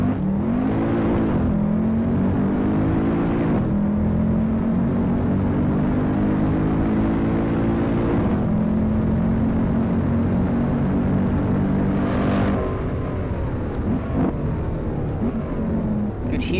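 Mercedes W204 C63 AMG V8 modded into a driving game, revving hard with rising and falling engine tones across several gear changes, loud and sustained with occasional crackle bursts between shifts.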